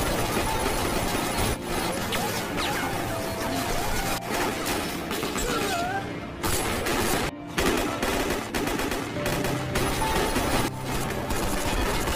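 Machine gun fire from a film robbery shootout rattles on continuously for twelve seconds, dense bursts mixed with crashes and a busy action-scene soundtrack.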